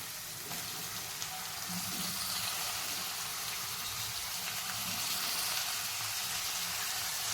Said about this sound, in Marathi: आता आपल्याला टाकायचं आहे बारीक कट करून घेतलेला टोमॅटो